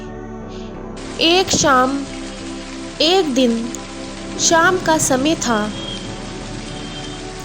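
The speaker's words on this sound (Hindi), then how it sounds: "बहुत तेज़ बारिश पड़ रही थी।" Heavy rain in an animated cartoon, a steady rushing patter running beneath a narrator's spoken storytelling.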